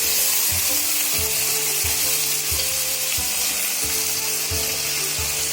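Half-cooked vegetables for veg pulao frying in a pan, a loud continuous hiss with regular knocking stirs of a spatula every half second or so, close up.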